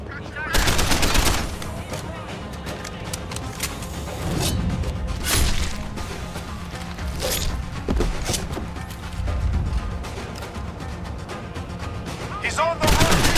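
Gunfire rattles through a Deus Ex Human Revolution firefight, with repeated sharp bursts and shots at irregular intervals over a busy, noisy background, and voices heard along the way.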